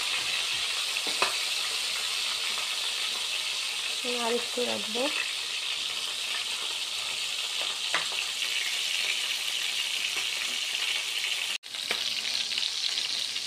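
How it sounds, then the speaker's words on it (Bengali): Chicken pieces fry in a pan for a Bangladeshi wedding-style chicken roast, a steady close sizzle running throughout, with a few soft stirring clinks and a brief spoken remark over it. "অন্য পাশটা ঠিক সেইভাবেই ভেজে নেবেন, এতে কালারটা ভালো আসবে।"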